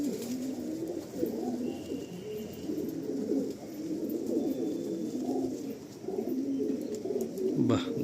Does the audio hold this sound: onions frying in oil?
no